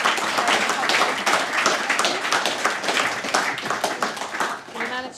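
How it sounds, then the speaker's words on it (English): A meetup audience claps for a discussion panel, a lively close patter of many hands running throughout, with a voice speaking over it toward the end. "can I say a huge round of applause and thanks to our panel"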